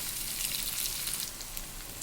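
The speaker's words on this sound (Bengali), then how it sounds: "এখন আমি এগুলো একটু লাল লাল করে ভাজা হবে" Garlic fries in oil with a soft, continuous hiss and fine crackle, steady and fairly quiet across the short stretch.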